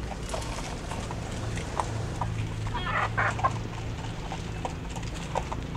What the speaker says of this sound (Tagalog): Pag-agawan na yung manok mo.